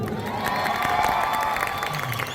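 An audience at a movie pre-release event in a Kochi mall claps and cheers, dense steady applause filling the space with shouts rising over it, loud and continuous throughout.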